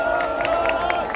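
Crowd at an outdoor Korean election campaign rally clapping and cheering, a dense wash of claps with a sustained tonal drone underneath, brief and loud.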